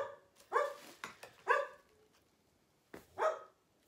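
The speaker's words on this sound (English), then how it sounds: "She barks at every little sound." A dog barks nearby in short separate woofs, two quick barks, then a lone bark after a pause, with faint whimpering yips between, fairly quiet against a still room.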